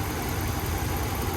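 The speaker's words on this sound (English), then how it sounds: "it took probably 30 minutes for the noisy lifters to die down once I got it up and running" A Hemi V8 engine idles steadily up close after a #3 cylinder misfire repair, a continuous low rumble with no break over the short stretch, once noisy lifters have settled.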